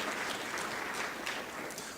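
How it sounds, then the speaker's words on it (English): An audience at a community forum applauds with faint, distant, even clapping that holds steady for a couple of seconds. "You all ought to clap for that."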